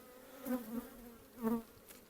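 Aggressive honey bees at the hive, a faint, low buzzing hum that swells twice as bees pass close by.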